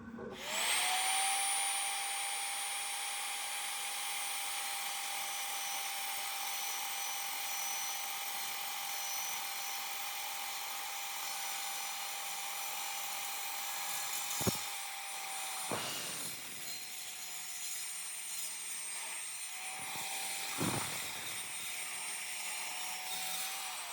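Saw cutting wood stock for building a tool box, a steady loud whine running continuously for about twenty seconds, dropping briefly a few times as cuts finish and restart.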